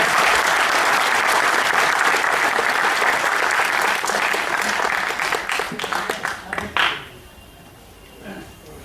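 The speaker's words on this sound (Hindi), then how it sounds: "तालियां बजाइए" Audience applause at a Holi gathering, loud sustained clapping from a large crowd that thins into scattered claps and fades out after about seven seconds.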